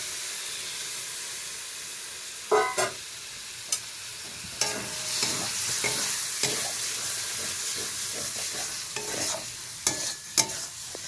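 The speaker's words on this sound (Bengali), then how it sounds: "মশলাটা ভাজা হয়ে গেছে চিকেনটা দিয়ে দিচ্ছি নুন মাখিয়ে রেখেছিলাম" Chicken pieces salted beforehand frying in a pan of fried spice masala, with a steady close sizzle and hiss broken by repeated sharp scrapes and clinks of a spatula stirring, no talk.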